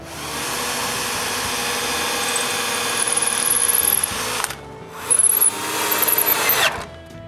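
A power drill bores pilot holes in wood for window latches: a loud, steady motor whine up close, a brief stop, then several shorter revving bursts as the bit bites into the wood.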